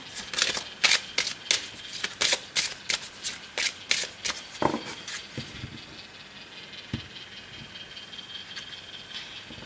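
Tarot cards being shuffled before a reading: a rapid series of crisp riffling flicks for about five seconds, close and fairly loud, then a few isolated card taps before the sound fades to quiet.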